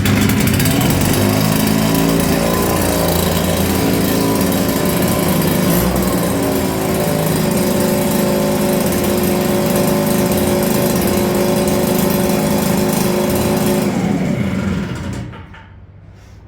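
A Husqvarna 650 backpack blower engine runs loud and close at a steady, buzzing high pitch for several seconds, then cuts off and dies away near the end.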